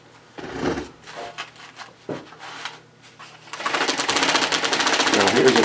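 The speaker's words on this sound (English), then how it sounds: "And now we're ready to sew" A carpet binding machine sewing binding tape onto carpet: quiet handling noises and a brief voice first, then a loud, steady rapid stitching whir that runs without pause through the final two seconds.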